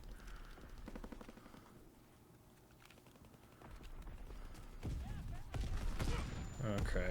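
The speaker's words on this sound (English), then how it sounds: "Okay, random stun grenade." A stun grenade detonates during a Call of Duty: WW2 match, a burst of muffled blast noise and ringing rising near the end, with gunfire and faint talk in the background.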